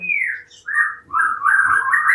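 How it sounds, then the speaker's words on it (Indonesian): A long-tailed white-rumped shama sings close by with a varied run of rich whistled phrases, separated by short gaps, clear and loud with no voices. "saya telah menghadirkan salah satu murai batu saya ekor panjang ya"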